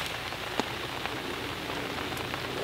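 Steady rain falls during a tench fishing session, giving a dense even hiss of drops on nearby surfaces with a few louder individual drips.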